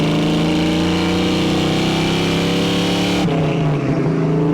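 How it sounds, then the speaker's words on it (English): A 1966 Ford Mustang Fastback's exhaust roars loud and close under hard acceleration, a steady rising engine drone that drops sharply as the gear changes near the end. "We'll do a little bit of an aggressive pull so you guys can hear that exhaust one more time."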